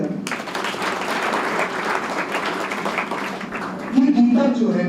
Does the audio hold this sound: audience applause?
yes